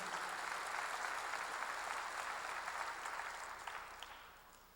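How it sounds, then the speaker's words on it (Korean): A church congregation applauds during a sermon, a dense, steady patter of many hands clapping that holds for several seconds and then tapers off toward the end. "박수로 하나 드시죠"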